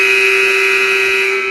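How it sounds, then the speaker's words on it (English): An electronic buzzer in a basketball gym blares loud and continuous, a single sustained harsh tone held without a break and no voices over it. "The buzzer goes off again."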